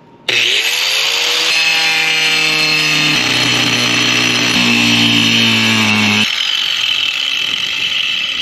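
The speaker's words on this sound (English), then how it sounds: "There is a wood frame in there, and this blade's not cutting it that great." A power tool blade cuts into a fiberglass van roof with a wood frame inside, sounding loud and close as a sustained whining, grinding buzz that shifts pitch as it bites, then fades to a steady drone.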